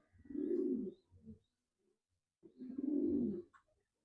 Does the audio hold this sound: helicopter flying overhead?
no